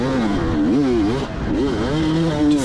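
A 2004 Kawasaki KX250 two-stroke dirt bike being ridden nearby, its engine note steadily rising and falling with throttle over a continuous ringing exhaust drone, loud and close throughout.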